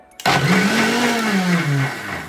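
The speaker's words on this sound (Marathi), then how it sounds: "पुन्हा एकदा पटकन मिक्सर फिरवून घेऊया" A mixer grinder whirs to life abruptly and runs loud and steady, its motor pitch wavering slightly as beetroot buttermilk and water churn inside.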